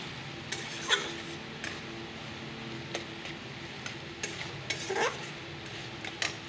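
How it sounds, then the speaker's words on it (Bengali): Pointed gourd dropped into fried spice paste in a pan, a soft low sizzle under occasional light clinks and scrapes of a spoon, quiet and close. "মশলাটাও ভাজা হয়ে গেছে, পটলটা ছেড়ে দিলাম।"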